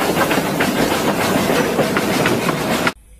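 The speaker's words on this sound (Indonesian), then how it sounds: "Ini adalah kereta lokomotif." A locomotive train rolls past with continuous rumbling and rhythmic clickety-clack, loud and near, then cuts off abruptly just before the end.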